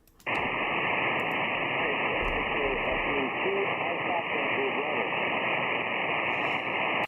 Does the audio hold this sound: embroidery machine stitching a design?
no